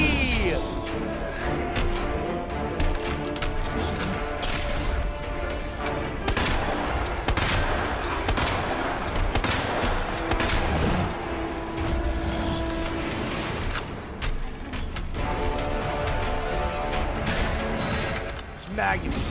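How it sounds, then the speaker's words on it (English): Magnum gunshots in a video game, sharp loud bangs repeating irregularly amid dense, busy combat noise throughout. "This Magnum is super powerful, but not powerful enough, apparently."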